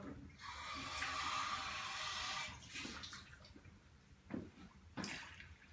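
Water pours steadily for a couple of seconds, then a few softer splashes and clinks follow, close by and fairly quiet.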